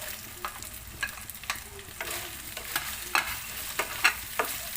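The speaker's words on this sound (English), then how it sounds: "let's just cook it until the tomato gets becomes soft and smushy" Tomato and green chili fry in a pan for vegetable biryani, a soft steady sizzle with repeated scraping clinks of a spoon stirring, close and without talk.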